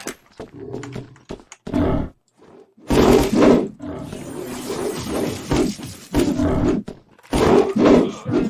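A wolf character in the online shooter Wolfteam lets out repeated loud, harsh roars in rough bursts, with game noise between them.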